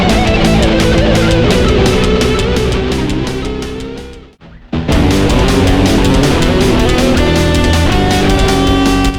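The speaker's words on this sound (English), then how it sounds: "what you hear here is the guitar solo of said song" Heavy metal guitar solo from a song on a Basque band's first album, loud and dense over full band backing, with a brief near-silent break midway before the solo resumes.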